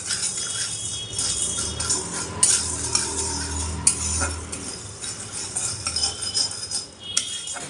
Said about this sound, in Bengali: এগুলোকে এখন শুকনো কড়াইতে একটু ভেজে নেব